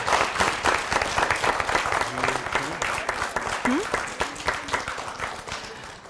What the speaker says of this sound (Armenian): Ծափարենք մեր գործընկերոջ